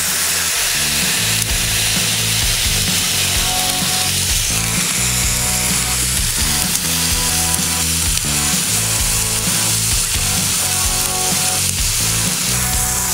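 A smash burger patty sizzles loudly and continuously on an outdoor griddle, a dense close frying crackle with scraping spatula sounds layered over it throughout.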